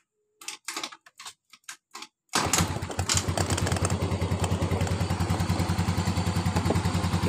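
A Yamaha Mio scooter with a sputtering, stalling fault: a few sharp clicks and knocks, a brief pause, then the engine catches and settles into a loud, steady, rapidly pulsing idle close by.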